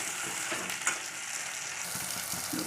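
Gravy for sev tameta nu shaak sautéing in a pan gives a steady, close sizzle with occasional soft stirring scrapes and one brief clatter, with no voices.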